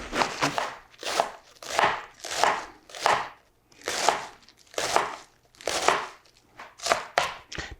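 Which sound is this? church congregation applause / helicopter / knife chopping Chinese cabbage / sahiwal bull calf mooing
knife chopping Chinese cabbage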